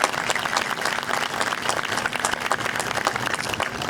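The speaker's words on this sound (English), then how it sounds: "Let's give them all a round of applause" Steady, dense applause from a crowd outdoors at a 9/11 sunrise memorial ceremony at a beach town park, honoring local fire departments, sustained and even throughout.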